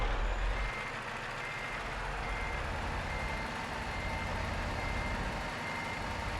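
A truck in a trucking video game reverses with its backup alarm beeping over a dense, steady engine drone, loud and continuous throughout.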